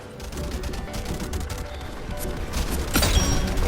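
Battle rifle gunfire in the Roblox shooter Gun Game comes as a steady run of rapid, sharp shots, loud and close, with a heavier burst near the end.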